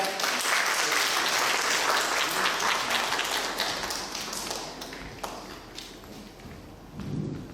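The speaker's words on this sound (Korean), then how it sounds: "큰 박수 부탁드립니다" An audience at a university student parliament debate contest welcomes a National Assembly member to the stage with applause, a full burst of clapping that gradually thins into scattered claps, with a low thump near the end.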